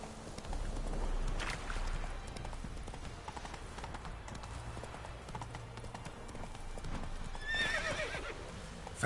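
Roach, a horse in The Witcher 3, gallops with steady rapid clip-clop hoofbeats throughout and lets out a loud neigh near the end, with some faint voice in the background.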